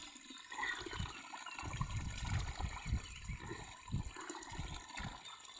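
Mountain spring water flows and splashes steadily nearby, a soft rushing gurgle that swells and eases over several seconds, fairly quiet with no voices.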